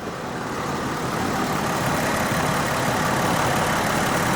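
A 1984 Corvette engine idles with a slight miss, a steady low rumble that swells a little in the first second and then holds constant and moderately close.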